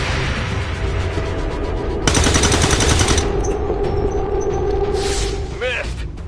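Automatic gunfire in XCOM 2: War of the Chosen, a dense burst of rapid shots over steady battle noise and a game voice, followed by whooshing and ringing effects.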